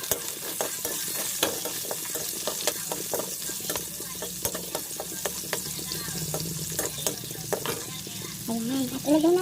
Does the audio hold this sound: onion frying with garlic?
yes